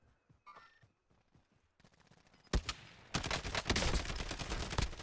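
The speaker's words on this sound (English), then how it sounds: "I'm gonna try to take him out with the sniper." Rifle fire from Call of Duty Warzone, with sparse quiet thumps first and then loud sustained bursts of gunfire that fill the last two seconds, heard alone without talk.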